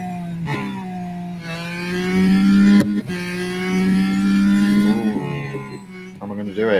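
An Acura NSX GT3 racing car in Real Racing 3 holds a steady, loud engine drone that rises in pitch through acceleration runs, with a brief gear-shift dip and a voice commenting underneath.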